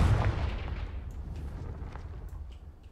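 Confringo explosion spell cast in the video game Hogwarts Legacy, a loud booming blast that opens sharply and rolls into a sustained rumbling decay over about three seconds, with no voices.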